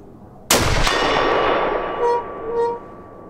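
A Howa 1500 rifle fires a single loud, sharp shot at a target, with a long ringing decay and a quick second crack just after. Two faint, brief tonal pings follow in the tail.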